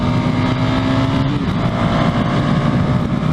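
KTM 390 Duke motorcycle ridden hard at speed, its small single-cylinder engine droning steadily under heavy wind rush, with a brief drop in engine pitch partway through.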